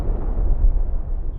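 A film explosion from a war scene with grenades blowing up: a deep, rumbling low boom that rolls on for over a second, loud and heavy with no voices.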